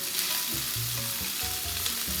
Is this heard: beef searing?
yes